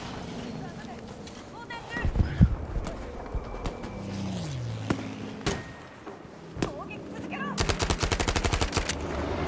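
Gunfire in Battlefield V, scattered single shots and short bursts during a close fight, ending in a rapid automatic volley, with someone talking over the shooting.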